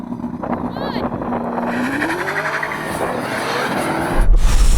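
A Tesla Model S Plaid and a Ferrari SF90 launching in a drag race, a loud rising engine roar and tyre noise building fast and close, under excited talk.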